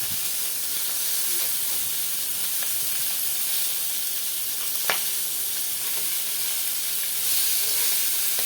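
Fish heads fry in hot oil in a pan, giving a steady close sizzle and hiss with occasional small pops and spatters, with no voices.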